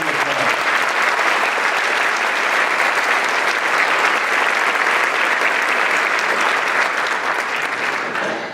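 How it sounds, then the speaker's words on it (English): Loud, sustained audience applause at a candidate forum welcoming the moderator, a dense wash of clapping that holds steady for about eight seconds before fading at the end. "Please give him a loud round of applause."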